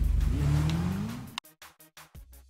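A Hakuchou motorcycle engine in GTA 5 revs hard, its whine climbing steadily in pitch before breaking into a series of choppy, stuttering bursts with short gaps between them.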